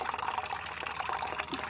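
Tap water runs steadily into a container, filling it up to rinse vegetables in a home kitchen, a continuous close hiss and splash with no pauses.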